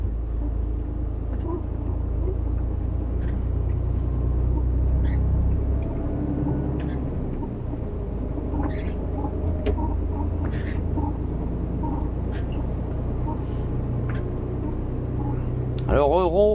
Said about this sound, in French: Alors il y a un ronronnement que vous entendez là